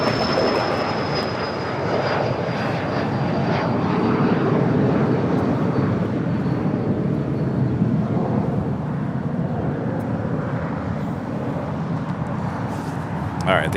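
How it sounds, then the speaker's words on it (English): Airliner jet engines roar at Los Angeles International Airport, a broad, steady rush with a faint high whine fading early, moderately distant and continuous, with radio-style voices underneath. "That's the next heavy departure, number 2 for departure here on the south side."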